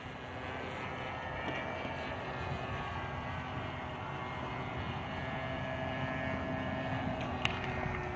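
Motor of a Seagull Models PC-9 radio-controlled model airplane gives a steady, even drone with a faint whine that holds from start to finish at a moderate distance, with no talking over it.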